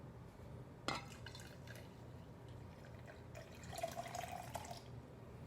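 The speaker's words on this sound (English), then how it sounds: "going to pour this on top of the dish soap." Water pours and splashes steadily onto dish soap in a container, with a sharp clink near the start and bubbly trickling later, close by and fairly quiet.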